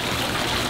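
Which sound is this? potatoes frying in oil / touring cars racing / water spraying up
water spraying up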